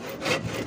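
A short burst of wood being hand-sawn for a table, a couple of rough back-and-forth strokes close by.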